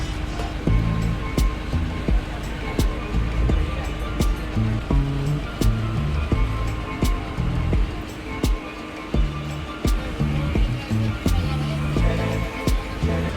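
Sea waves wash and slap steadily around a boat heading out to the Elephanta Caves off Mumbai, with a continuous rumble of water and motor underneath and rhythmic repeated knocks through the ride.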